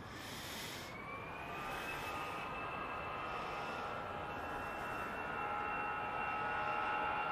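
A jet airliner departing Manchester Airport at full takeoff power, a loud sustained roar with rising whine that builds steadily throughout, with no talk over it.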